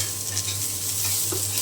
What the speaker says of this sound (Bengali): আর এই তেলের মধ্যে আমি পেঁয়াজ ভেজে নেব।